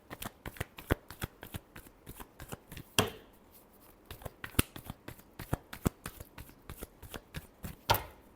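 Tarot cards are shuffled close by in quick riffling bursts, a rapid run of crisp slaps and flutters with a few louder snaps, no talking over it.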